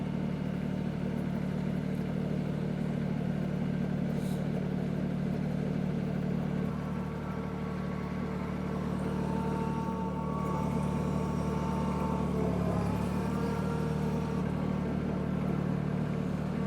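A Solis tractor engine idling and working under load, a steady close mid-pitched drone with shifting tonal hum as revs change slightly, continuous throughout with no talk.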